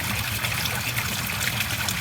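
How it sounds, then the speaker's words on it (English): Water trickles steadily into escape holes in a pipe of a koi pond with a bog filter, a continuous close, even gurgling wash with no voices. "escape holes where water can go in, so as not to choke the pump"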